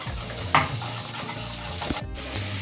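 A spoon stirs and whisks yogurt mixed with spices and salt, making a steady soft wet mixing sound against a bowl, with a short scrape and a clack midway, and no talking.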